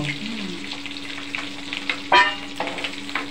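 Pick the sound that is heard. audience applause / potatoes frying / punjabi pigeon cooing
potatoes frying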